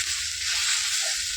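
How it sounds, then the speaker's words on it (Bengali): Jute leaves frying in a pan with salt, turmeric and cumin powder give off a steady, close sizzle with faint stirring scrapes, no voices. "এবার শাকটা দিয়ে দেবো, এতে নুন হলুদ আর জিরের গুঁড়ো দিয়ে একটু হালকা করে নাড়বো"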